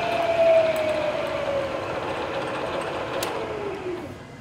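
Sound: Bridgeport milling machine spindle running at 600 RPM

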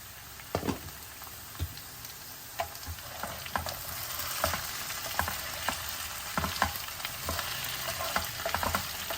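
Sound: potatoes frying in a pan for aloo fry

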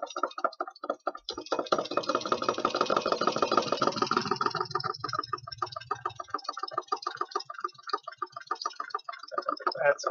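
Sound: solenoid motor running

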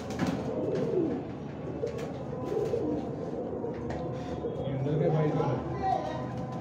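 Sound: pigeons cooing

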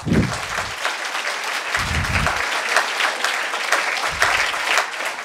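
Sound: audience applause

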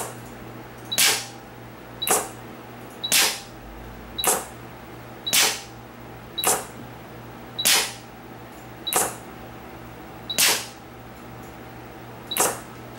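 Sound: Acro pneumatic pinch valve actuating repeatedly

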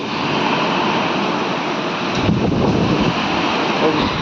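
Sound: strong wind

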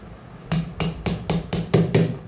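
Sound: raw mangoes being chopped for pickle

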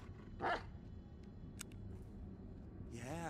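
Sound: dog barking in video game Blair Witch

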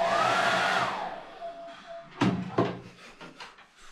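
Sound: hair dryer blowing hair

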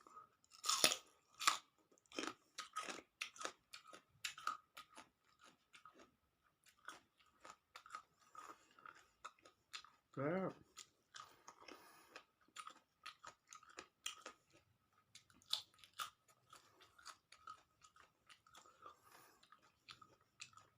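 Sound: chewing steamed squid with seafood dipping sauce

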